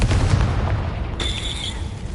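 A Confringo blasting spell explodes in a Harry Potter video game, giving a heavy, booming burst followed by a brief high ringing tail. It sounds close and loud, with no talking.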